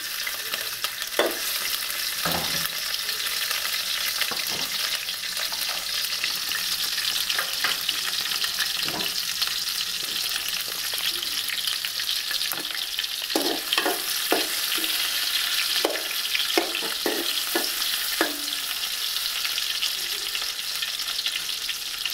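Tomato and onion fry in a pan with a constant, close sizzle, broken by repeated scraping and clinking strokes of a utensil stirring them, and no one speaks.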